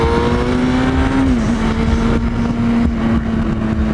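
A motorcycle engine at the Southend shakedown holds a steady, loud drone with a slight pitch dip midway, continuous and near with wind-like noise, no talking.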